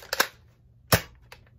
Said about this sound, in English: So now I fired this blaster.